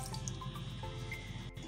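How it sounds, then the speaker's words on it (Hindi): Water from a small spoon trickles into a coffee and sugar mixture, soft close-up drips and liquid sounds, faint and brief, with no talk. "अब इसमें मैं छोटी चम्मच पानी डालूँगी।"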